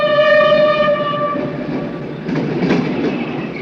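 A train runs steadily past with a loud, sustained horn chord at the start, then continuous rumbling and clattering of the wagons.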